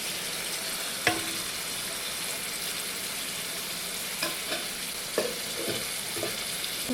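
Tomatoes and bottle gourd pieces sizzle and fry steadily in an oiled pan for a mutton dalcha, with a few sharp clinks of a spoon stirring at intervals.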